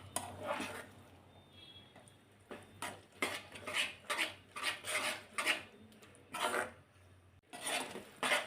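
A spoon stirs a quick homemade chutney in a metal pan, making repeated scraping strokes in an uneven rhythm, close and fairly loud.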